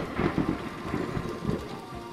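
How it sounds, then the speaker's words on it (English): Heavy rain pours steadily while low, rolling thunder rumbles through it, with a few louder swells in the first seconds of a close storm. "the sound of thunder is heard after you see the flash of lightning"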